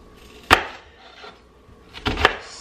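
A knife chops vegetables into small pieces for a tomato, cucumber and onion salad on a board: one sharp close chop, a quiet pause with faint rubbing, then a quick pair of chops.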